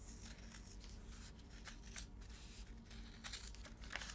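Scissors cut through black fabric with the pattern still pinned on, making quiet, irregular snips and soft crinkly rustles, faint and close with no voices.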